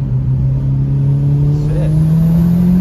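Jaguar car with a swapped Toyota 2JZ engine, heard from inside while accelerating on a canyon road: a loud, steady engine drone rising gradually in pitch for about three seconds.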